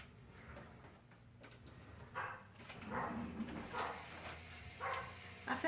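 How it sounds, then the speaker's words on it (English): A small chihuahua yaps in short, high bursts somewhere in the background, fairly faint, with indoor kitchen clatter and murmuring nearby. "The little chihuahua's barking, so you hear in the background."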